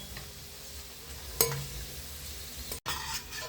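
Rava (semolina) dry-roasts on a slow flame for laddu: a quiet, close rustling scrape from a stirring spoon, with a sharp clink midway and a brief dropout near the end.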